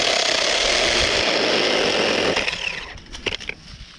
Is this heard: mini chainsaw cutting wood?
yes